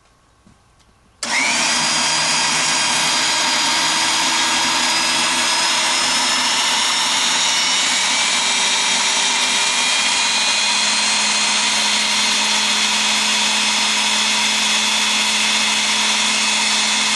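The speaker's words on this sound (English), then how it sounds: "we hydraulically drive precast concrete pilings vertically underneath the slab" Hydraulic driving of precast concrete foundation pilings beneath a slab during foundation repair, a loud, steady mechanical drone with a whining hum that starts abruptly and runs unbroken to the end with no talking.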